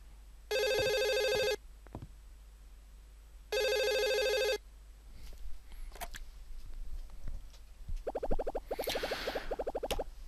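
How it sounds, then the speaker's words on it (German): A telephone rings twice in the video game Another Code: R, two loud, even bursts of electronic ringing separated by a pause, followed by softer game sounds and a brief chiming effect. "Moment. Telefon."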